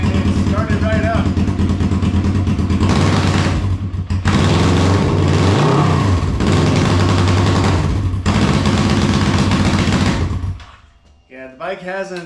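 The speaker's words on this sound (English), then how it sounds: "And turn the bike on. And it started right up." Old motorcycle that had sat unstarted for about 12 years fires up and runs, a loud close rapid engine chatter with bursts of revving, then dropping off near the end as a voice speaks briefly.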